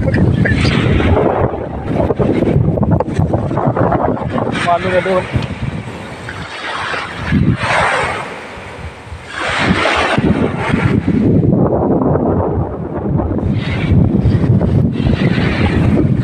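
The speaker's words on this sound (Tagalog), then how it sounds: "sobrang lakas na hangin" Strong beach gusts batter the microphone in loud, rumbling bursts that rise and ease, with a person speaking briefly between the blasts.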